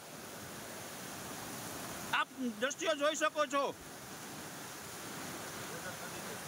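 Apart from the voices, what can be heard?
floodwater rushing fast in river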